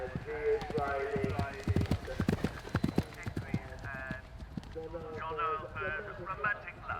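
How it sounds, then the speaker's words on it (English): Horse hooves clip-clopping at a cross-country horse trials event in Bramham, with steady rhythmic hoofbeats close by and a commentator talking over them. "this is French rider Gwendolen Fer, and she is riding"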